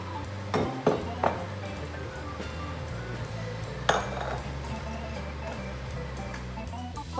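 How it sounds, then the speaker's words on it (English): Chopped carrots and celery drop into a soup pot with onions, bringing a few clinks of a utensil against metal and then a soft, steady background sizzle and rumble close by. "Now I'm gonna add 3 chopped carrots and 2 chopped celery sticks and let it saute for just a little bit with the onion mixture."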